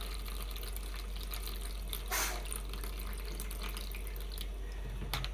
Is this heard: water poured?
yes